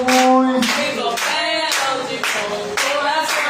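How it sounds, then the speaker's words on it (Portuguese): A church congregation claps along during a worship service, a steady stream of handclaps backed by bright tonal music and singing, loud and continuous throughout. "Bate palmas para Jesus"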